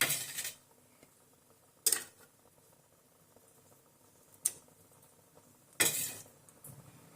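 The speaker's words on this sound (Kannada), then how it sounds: "ನಾನು ಫ್ರೈ ಮಾಡಿ ಇಟ್ಕೊಂಡಂತ ಎಗ್ ಒಂದೊಂದ ಇದ್ರೊಳಗ ಹಾಕ್ತೇನೆ ನೋಡ್ರಿ ಫ್ರೆಂಡ್ಸ್." Fried eggs are set one by one into a pot of egg biryani, making four sharp utensil clinks against the metal pot, spaced out with quiet gaps between them and no voices heard.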